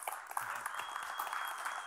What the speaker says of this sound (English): give him your full attention and a round of applause